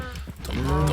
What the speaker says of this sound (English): little baby cows get sucked into the cow sorter and get put in their own pen